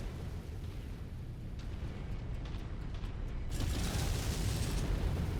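A Panther mech is destroyed in the MechWarrior 5 video game: a dense, continuous rumbling explosion roar that swells louder about midway and keeps booming steadily to the end.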